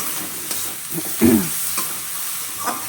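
Capsicum and tomato fry in a pan for a fish curry, a low sizzle broken by a few spatula scrapes and stirs, close and fairly loud, with no speech.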